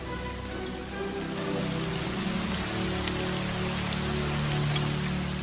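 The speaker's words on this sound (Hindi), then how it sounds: "नूह देख रहा था कि कब बारिश बंद होगी, परंतु बारिश होती रही।" Steady rain pours down continuously, a dense hiss of drops hitting surfaces with no voices.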